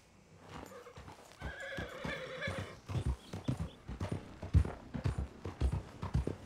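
In a video game, a horse whinnies near the start and then gallops with rhythmic, close clip-clop hoofbeats over a low ambient background.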